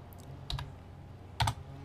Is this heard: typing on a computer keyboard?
yes